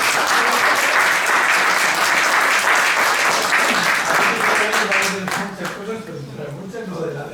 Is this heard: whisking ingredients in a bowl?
no